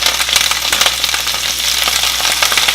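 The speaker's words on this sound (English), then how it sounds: "So now I'm going to go ahead and add my romaine lettuce" Romaine lettuce sautés in a hot pan with a loud, dense, continuous sizzle and crackle and a low steady hum underneath.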